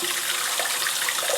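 Water runs steadily from a tap into a sink, a loud, continuous, broadband rush with no breaks and no voices.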